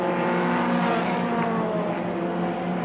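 IROC race cars roar around a track as they come out of a turn, a dense, steady engine drone with layered pitches from several cars, fairly distant and continuous throughout.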